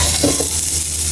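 Khichuri in a pot gets a brief stir, a soft scrape and sizzle over a steady cooking hiss, close by and with no voices.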